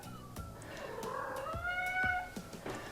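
Chloe the cat meows in a drawn-out, wavering series of calls, close and fairly clear, with some light background knocks.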